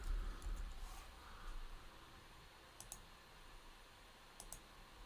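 Faint computer mouse clicks sound in a quiet room, two quick double clicks spaced a couple of seconds apart over a low background hiss.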